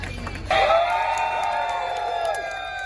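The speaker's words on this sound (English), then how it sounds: "Cheer them on when they hit the dirt." A crowd cheers and whoops at a summer festival beer garden, erupting suddenly and loud after a brief quiet start, then holding a steady roar of shouts and cheers with a loud whistle-like voice rising above it.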